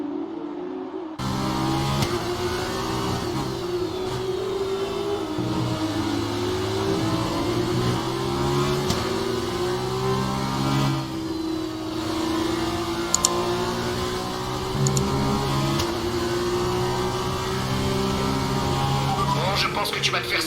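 A race car engine in the F1 2019 video game drones steadily at high revs, its pitch gliding up and down through gear changes without pause.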